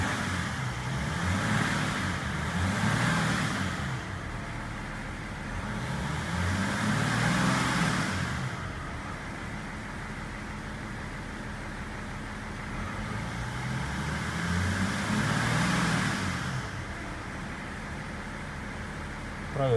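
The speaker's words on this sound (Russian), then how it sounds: "Газуем до 2500 оборотов и проверяем уровень жидкости." BMW X5 E53 engine held at about 2500 rpm while its cooling system is bled, a steady close idle-to-rev drone that swells in repeated waves, with occasional voices over it.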